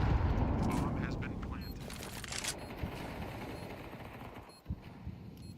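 Rifle and submachine gun fire rattles in a Counter-Strike pro league match, with sharp shots and short bursts scattered beneath fast esports commentary.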